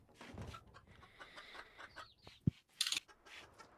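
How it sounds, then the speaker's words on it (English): Chickens clucking in the video game Rimworld, several soft, short clucks and chirps that come and go quietly in short bursts. "I can't believe I forgot we had chickens."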